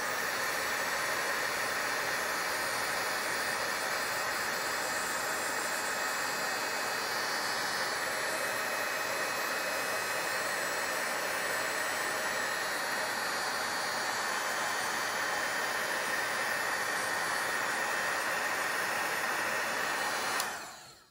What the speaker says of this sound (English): And now let's heat set.